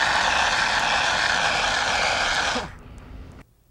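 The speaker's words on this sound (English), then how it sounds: "When using an extinguisher, be aware that they can be very loud." A pressurised fire extinguisher discharges in a loud, steady rushing hiss for about two and a half seconds, then cuts off abruptly, leaving a faint residual hiss before silence.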